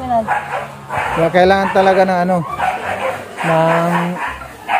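Several dogs bark and yip in short harmonic bursts close by, mixed with people talking throughout.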